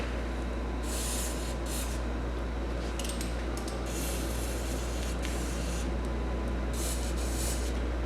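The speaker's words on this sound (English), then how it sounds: "So you can use some brake clean penetrant." Brake clean penetrant sprayed from an aerosol can onto a wheel bearing of a 2009 Hyundai Accent, several loud hissing bursts of varying length over a steady background hum.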